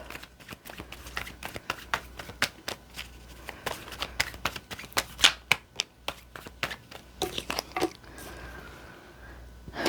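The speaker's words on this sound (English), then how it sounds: "Shuffling for Scorpios for November." Tarot cards are handled and shuffled in a quiet room, a dense series of crisp, sharp slaps and flicks in irregular rapid bursts, close and distinct, with a softer rustle near the end.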